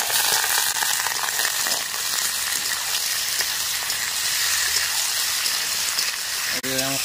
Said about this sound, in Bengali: চিকেনের সাথে একসাথে পেঁয়াজও ভাজা হবে।